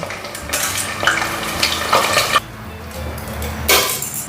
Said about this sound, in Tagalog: So, magprito na tayo. By batch yung gagawin natin. And so pripituhin natin yan until mag-golden brown.